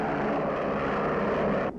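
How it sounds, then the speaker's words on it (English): A twin-engine Canadian Mosquito bomber in flight, flying on only one of its engines, a steady loud propeller drone held throughout that cuts off abruptly at the end. "Even when flying on only one of its powerful twin motors, Canada's Mosquito bomber carries a deadly sting."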